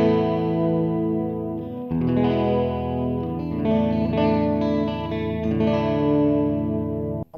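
An electric guitar played through the chorus effect of a Donner Cyclops modeling mini amp, sustained distorted chords with a shimmering, doubled modulation, loud and continuous with no talking.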